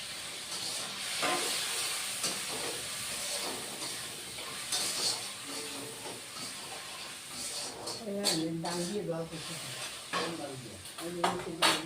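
Tomatoes and green chillies with salt sizzle in a pan for a Bengali veg dal, a steady loud frying hiss throughout with a voice speaking briefly near the end.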